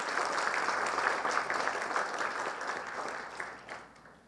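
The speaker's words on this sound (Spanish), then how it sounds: "Pues yo pediría un aplauso acá para nuestra invitada" An audience at a legal talk on women's labour rights applauds the invited speaker, steady dense clapping at moderate distance that gradually thins and fades toward the end.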